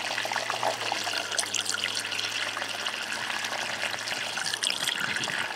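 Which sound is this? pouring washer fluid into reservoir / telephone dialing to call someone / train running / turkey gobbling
pouring washer fluid into reservoir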